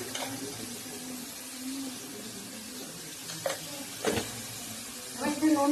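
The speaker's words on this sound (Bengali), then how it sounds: "পেঁয়াজটা একটু নাড়া করে এটা রসুন দেবো ও রসুন বাটা দিচ্ছি নুন দিচ্ছি" Onion with garlic paste frying in a pan, a continuous sizzle with occasional stirring scrapes and clinks, close by.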